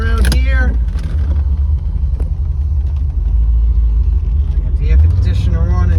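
Steady low engine rumble from a 1985 Chevy Corvette with the L98 350 V8 while driving, with a voice speaking briefly at the start and end.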